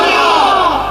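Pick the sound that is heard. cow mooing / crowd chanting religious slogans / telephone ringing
crowd chanting religious slogans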